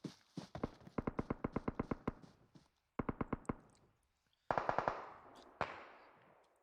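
Rapid automatic gunfire in a video game, crisp bursts of evenly spaced shots: a long string, a short pause, a shorter burst, then a few heavier echoing shots, close and sharp with no talk.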